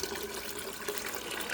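Warm water and vinegar pour steadily into a Primo water cooler, a continuous close gushing wash of liquid that keeps an even level throughout.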